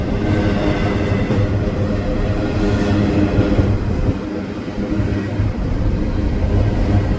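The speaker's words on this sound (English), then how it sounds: "this was a really mega intermodal. Not only did it have 3 locomotives in the front" An intermodal freight train led by three locomotives rolls past close by, a loud, steady rumble of wheels and cars with faint squeals, continuous throughout.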